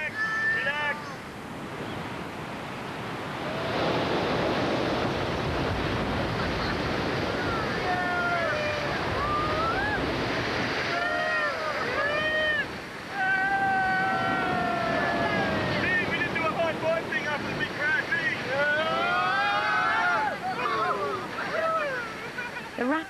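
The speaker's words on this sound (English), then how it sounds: "Rapids seem to alternate, a hard one, then an easy one." White-water river rapids roar as a continuous broad rush during rafting, with wind buffeting the microphone. Voices talk over the water for much of the stretch.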